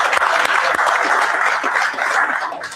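A crowd applauds continuously at an awards event, dense clapping at steady volume that tapers slightly toward the end.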